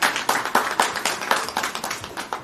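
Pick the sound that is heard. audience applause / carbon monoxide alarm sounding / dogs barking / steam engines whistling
audience applause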